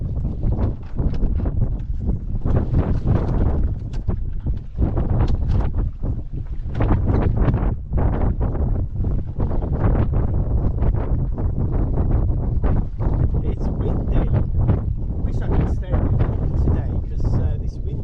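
Strong, steady wind buffets the microphone on a sailboat during a blustery day of harbour circuits and mooring, a constant low roar with gusty surges over the whole stretch, while someone talks intermittently.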